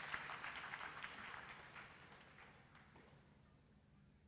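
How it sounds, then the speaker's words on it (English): An audience at a business summit in Ghana claps after a speaker's remark, a faint, distant patter of applause that fades out over a few seconds. "you deserve a round of applause"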